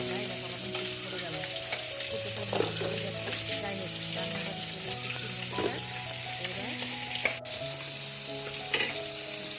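Food fries in a pan with a steady, close sizzle that runs unbroken throughout, over a faint tonal hum in the background.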